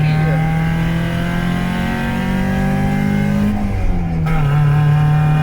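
A car accelerates hard with a steady, rising engine drone, loud and close throughout, with a brief pitch shift near the end and voices faintly mixed in.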